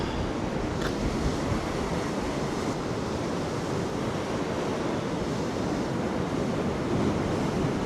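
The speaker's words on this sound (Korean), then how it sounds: "풍랑특보가 발효된 울릉도의 바다입니다. 지금 파도가 상당히 높게 치고 있어요." Storm surf pounds the sea off Ulleungdo under a high-wave warning, a continuous loud roar of crashing waves mixed with gusting wind noise on the microphone, steady throughout with no voices.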